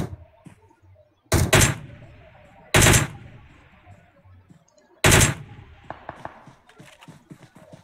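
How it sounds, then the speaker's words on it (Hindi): Three loud, sharp bursts of gunfire in a battle royale video game, spaced a second or two apart against a quiet background, with faint clicks and small taps in between. "यहाँ पे टीम नंबर 37 टीम नंबर 32 को पीछे से फायरिंग करते हुए"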